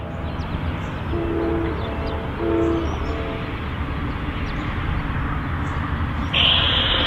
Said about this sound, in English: Next, eastbound intermodal train 26N rolled through town.